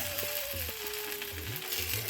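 Cucumber roti, a Kannada-style flatbread, sizzles softly on a hot pan while it cooks, a quiet steady crackle with faint scraping touches and a thin whine running beneath.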